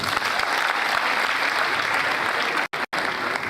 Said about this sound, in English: I thought you would clap for me